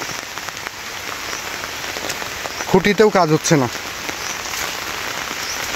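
Continuous rain falling over a papaya farm after weeks of downpour, a steady close hiss throughout, with someone speaking briefly in the middle.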